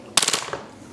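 An Action Army AAP-01 airsoft pistol fires a rapid full-auto burst of about half a dozen sharp, close snapping shots in a fraction of a second, then quickly falls quiet.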